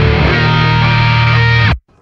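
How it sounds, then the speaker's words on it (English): Electric guitar solo played through a pitch pedal, a dense sustained distorted tone with a steady low bass line that runs loud and continuous, then cuts off abruptly near the end. "For this one, I have a pitch pedal."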